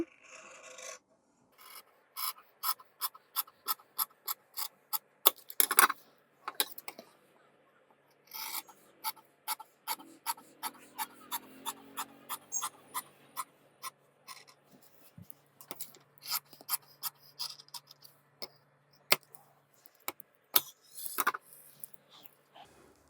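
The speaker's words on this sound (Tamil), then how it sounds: "இதை அப்படியே கட் பண்ணிடலாம்" Kurta fabric being cut for tailoring, heard as quick, evenly spaced rasping strokes in several runs, close and crisp in a quiet room with brief pauses between runs.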